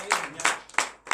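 A congregation at a morning prayer service in Benin gives an acclamation for Jesus, with four broad bursts of clapping or cheering in a loose, uneven rhythm, fairly close and moderately loud.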